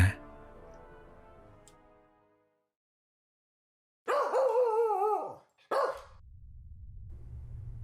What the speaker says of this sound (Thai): เสียงเห่าต่ำๆดังมาจากข้างทาง